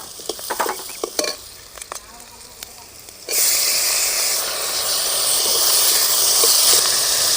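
Chopped tomatoes dropped into frying onions and curry leaves for a potato kurma, with stirring clatter first, then a loud steady sizzle and hiss that continues to the end.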